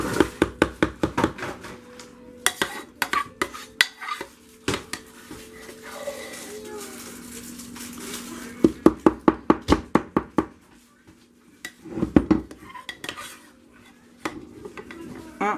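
Spoon scraping around the sides of a pot of hot process soap, giving repeated clustered clacks and scrapes in bursts with pauses between, fairly close and moderately loud, no talking.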